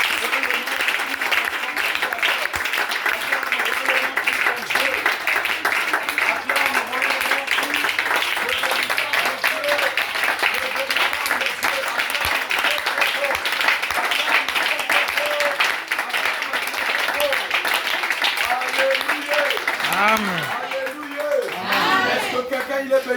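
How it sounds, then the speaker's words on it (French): A church congregation claps and applauds in dense, sustained, fairly loud applause that fades near the end, with people speaking briefly over it. "Est-ce que tu peux acclamer?"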